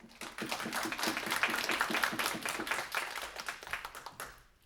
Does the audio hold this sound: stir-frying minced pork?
no